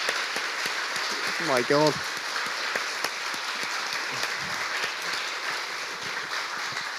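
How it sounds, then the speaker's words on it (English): A Cambridge Union audience gives Max Fosh a sustained, even wash of applause from a large crowd, with a brief spoken exclamation near the start. "That's why they're applauding."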